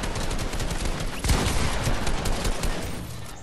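Rapid bursts of Fortnite gunfire during a competitive match crackle continuously, with a louder volley in the middle, dense and close.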